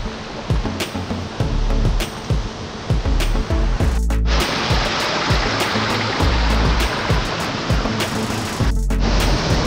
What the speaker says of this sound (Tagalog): Papunta na tayo dun sa pinakabagsakan ng falls.